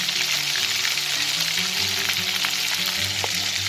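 Turkey meat frying in a pan with salt, turmeric and chopped onion, a loud, steady close-up sizzle that runs without a break, with faint stirring and a low hum underneath.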